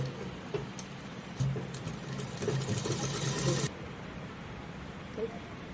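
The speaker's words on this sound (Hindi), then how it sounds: "यहाँ पे सिलाई लग जाएगी।" Sewing machine stitching a salwar, a close steady hum with needle rattle for a few seconds, then it stops and leaves quiet room noise.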